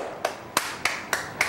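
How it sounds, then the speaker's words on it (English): Five evenly spaced hand claps, sharp and fairly close, with no talking around them. "That man claps like this"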